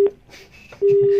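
A steady telephone tone after a call cuts off, sounding loud and continuous through the final half second, with fainter tones and noise before it.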